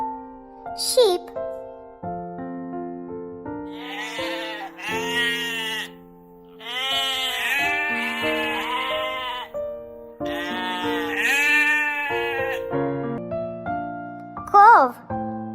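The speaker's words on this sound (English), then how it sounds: "Sheep." Sheep bleating in a repeated series of wavering, nasal calls over a steady background of sustained tones, fairly loud and close.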